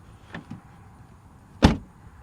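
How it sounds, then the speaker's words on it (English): Exterior door of a 2020 Acura NSX supercar: two soft clicks of the latch and handle, then one solid, loud thud as the door shuts, heard close with no talking. "let's kick it off by hearing the door open and close sound from the outside."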